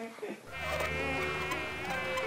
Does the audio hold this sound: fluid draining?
no